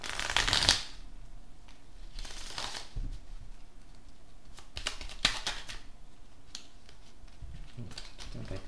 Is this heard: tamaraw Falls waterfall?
no